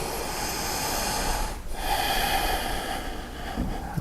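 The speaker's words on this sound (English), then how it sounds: "you can really hear your breathing, your ujjayi breath" Slow, audible ujjayi breathing during a yoga pose, a steady hissing airflow through the throat with a soft rushing texture, close and continuous with one brief pause partway through.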